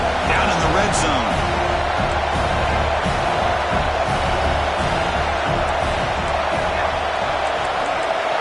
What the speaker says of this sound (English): the crowd coming to life here, trying to help this defense down in the red zone